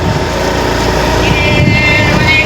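Honda Activa scooter ridden along a road, its engine and wind noise forming a steady, continuous rumble close by with no talking.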